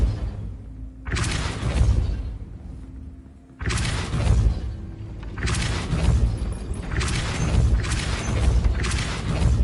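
Depulso spell casts in Hogwarts Legacy: a series of about six loud, forceful whooshing blasts, each with a booming impact, spaced roughly a second or so apart.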